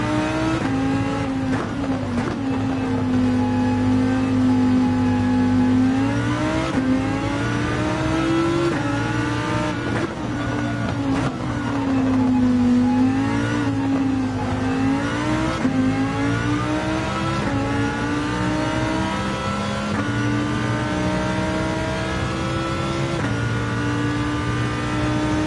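A Lamborghini race car's engine howls on a racing circuit, revving up and down through gear changes with rising and falling pitch, loud, close and continuous throughout, with no voices.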